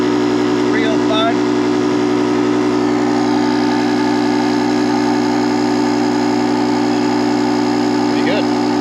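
A JOMGAND 3750A jump starter's built-in 150 PSI air compressor runs close by with a steady, even mechanical drone and hum that holds unchanged from start to finish, with a few faint incidental noises over it.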